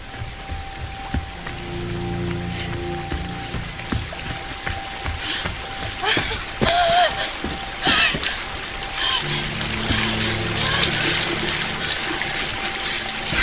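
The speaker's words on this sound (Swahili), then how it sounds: "Sauti ya maji ni kama anaisikia maji kuporomoka huko." Falling, cascading water makes a continuous dense splashing patter, fairly loud and close, with brief louder surges and a faint tonal hum beneath.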